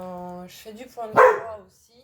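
A dog barks once loudly and nearby, a short sharp bark in an indoor room, while someone speaks just before and during it.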